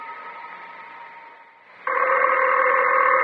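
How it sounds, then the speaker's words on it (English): A telephone in an old radio drama starts ringing after a quiet stretch, a steady buzzing tone that holds on loud until the end. "I know it's the phone."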